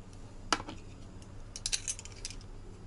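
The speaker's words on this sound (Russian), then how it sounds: "положим это, сколько они весят, там все четыре ложки" Four silver spoons set down on a scale at a pawn shop give a few quiet metallic clinks and clatters, one sharp clink followed by a short cluster of lighter taps, close and faint.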